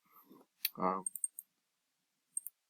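A computer mouse gives a few sharp, faint clicks while a screenshot snip is made and saved. A brief voice sound comes in between the clicks.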